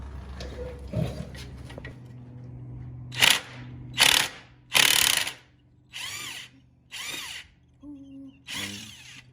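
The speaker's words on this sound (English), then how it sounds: "Next thing is you're gonna be taking off the bolts on that lowering link right there." Bursts of a power tool removing the lowering link bolts on a Honda CBR250 motorcycle, about seven short whirring runs in an irregular series, close and loud, with brief talk near the start.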